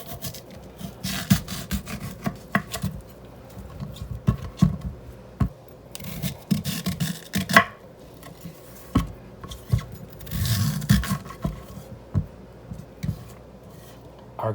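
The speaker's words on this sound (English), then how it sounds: "Our next step is going to be to slice this in quarters and then slice it very thin." Knife slicing a quartered, peeled kohlrabi very thin in a home kitchen, giving repeated soft crunching cuts and scraping rubs against a board at an uneven pace, close and fairly quiet with no talking.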